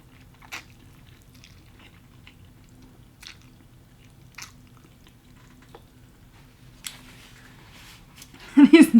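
Thin pho-style ramen noodles soaked in broth are chewed close up in sparse, soft wet bites with quiet gaps, ending in a short louder burst.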